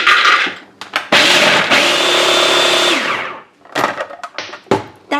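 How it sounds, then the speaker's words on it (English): A food processor grinds walnuts in loud, close whirring bursts, with one long sustained run in the middle and shorter pulses and clatter after it. "First, I'm going to use the food processor to grind the walnuts."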